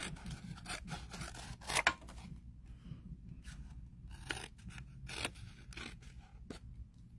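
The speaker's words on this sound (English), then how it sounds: "So now is when I can take my scissors and just cut" Scissors snip and scrape around an object in a quiet room, giving a series of short, dry cuts and rasps at an uneven rhythm, close to the listener with no talking.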